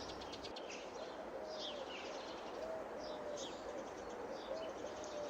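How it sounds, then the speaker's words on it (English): Cuckoo birds call in a repeated two-note coo on a British farm map in Farming Simulator 22, recorded from real birds, sounding faint and distant over a steady hiss of ambience. "you could have skipped the cuckoo"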